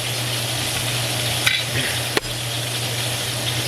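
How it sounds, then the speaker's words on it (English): Food being stirred in a pan for a weeknight family dinner over a steady background sizzle and hum, with a couple of faint scrapes and one sharp clink of the utensil against the pan. "Go ahead and stir that up"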